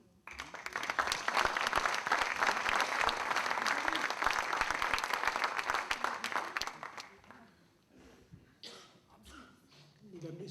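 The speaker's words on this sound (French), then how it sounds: "je vous prie de les applaudir encore une fois de plus" Audience applause for young literary prize participants at a ceremony in Volvic: steady dense clapping for about seven seconds, then fading out as murmurs, a few stray claps and a voice come through.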